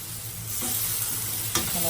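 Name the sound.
onions frying in coconut oil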